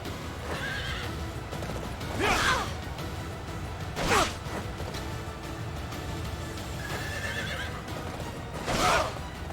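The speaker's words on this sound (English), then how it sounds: "The fact I get to ride on a goddamn horse against people." A horse whinnies loudly three times at spaced intervals in the video game Fire Emblem: Three Houses, over a steady background of hoofbeats and ambient noise.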